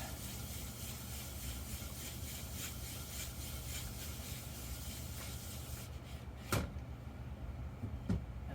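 A carbon steel knife is rubbed back and forth on a sharpening stone, a steady, close gritty scraping that stops partway, followed by a couple of light knocks.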